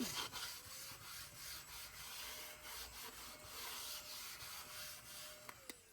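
Wood shavings get wiped off a tabletop, making soft, repeated rubbing and brushing strokes that are close and faint, with no talk.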